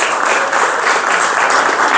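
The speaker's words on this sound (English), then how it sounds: "So big round of applause," Dense, steady applause from a conference audience at BananaConf 2024, a Web3 event, fills the room loudly and continuously for about two seconds with no break.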